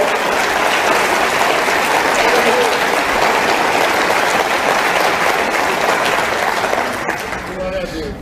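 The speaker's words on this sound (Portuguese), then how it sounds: "Você pode aplaudir esse Deus maravilhoso?" A church congregation bursts into sustained, dense applause that fills the space at full loudness, with a voice or cheers mixed in, before thinning out near the end.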